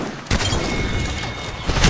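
Sheila minigun in Apex Legends firing a sustained, dense stream of rapid rounds after a brief wind-up, loud and close, with a burst of heavier impacts near the end.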